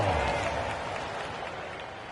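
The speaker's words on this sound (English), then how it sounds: "Give yourself a round of applause" Simulated arena crowd in NBA 2K26 during a Lakers versus Heat basketball game, a steady roar of applause and cheering filling the whole stretch, loudest at the start and easing slightly.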